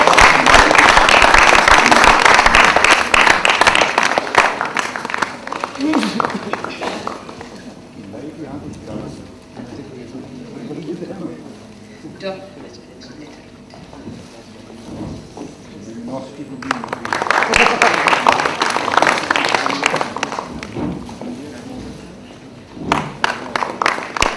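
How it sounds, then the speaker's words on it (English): An audience at a talk on diversity and inclusion breaks into loud applause to honor guests, a burst of clapping at the start and another later, with stretches of speech between. "please have a thundering applause session"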